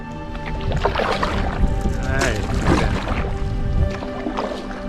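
A canoe is paddled across a lake in the Boundary Waters, soft water sloshes and paddle strokes sounding close, with a person talking over them.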